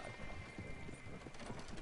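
A horse gallops in Red Dead Redemption 2 Online, with rapid rhythmic hoofbeats under a dense, noisy game soundscape.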